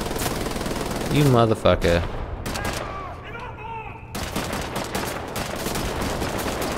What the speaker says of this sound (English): Die, guy on the machine gun.